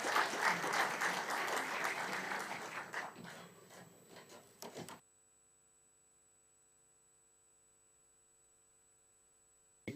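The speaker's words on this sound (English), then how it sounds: "A round of applause, please." An audience at a sports tourism congress in a hall gives a burst of applause that fades and stops abruptly, leaving a quiet electrical hum and a faint whine.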